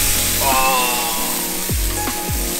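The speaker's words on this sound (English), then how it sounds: "Listen for the sizzle, right? That first sizzle." Loud, steady hiss of steak sizzling on a hot grill outdoors in wind, with a few tonal whines and low thumps over it, no voices.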